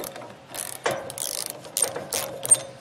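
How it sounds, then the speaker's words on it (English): A ratchet fitted with a 3/4 inch socket spins off the U-bolt nuts on a 3500 lb Dexter trailer axle, its pawl clicking in several short, close bursts separated by brief pauses, with no talking. "I went ahead and put a 3/4 inch socket on my ratchet, and we're just gonna take them off"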